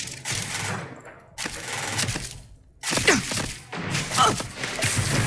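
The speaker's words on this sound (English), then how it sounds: "where are you shooting me from?" Gunfire in Starfield's Shattered Space expansion, loud bursts of rapid automatic shots and heavy impacts in separate volleys, close and aggressive, broken by short quiet gaps.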